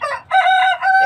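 A tiger chicken on a poultry farm gives a loud, close, drawn-out crowing call in one brief burst, heard alone.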